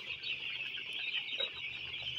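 A flock of eight-day-old broiler chicks fills the space with a steady, dense chorus of high peeping that carries on without a break, and no voices can be heard.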